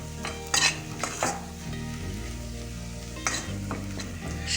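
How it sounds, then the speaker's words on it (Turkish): A spoon scrapes and stirs flour and water roasting in a pan for profiterole dough, with repeated close scraping strokes over a soft, steady sizzle. "Un kokusu gidesiye kadar biraz pişiriyoruz."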